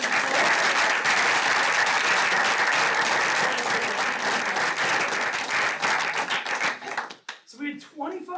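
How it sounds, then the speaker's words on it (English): Applause breaks out at a Skokie School District 68 board meeting, a sustained round of clapping from the room that thins out after about seven seconds before a speaker resumes talking. "If we could give them a quick round of applause."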